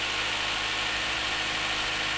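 A Honda CR-V with a K20/K24 2.0–2.4 litre petrol engine idles just after an oil and filter change, giving a steady, even hum with constant low vibration and no speech.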